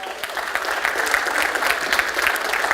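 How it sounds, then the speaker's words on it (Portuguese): Congregation applauding in church during a Mother's Day service, brisk clapping from many hands that swells slightly and stays steady, fairly close and loud with no speech over it. "Podemos aplaudir?"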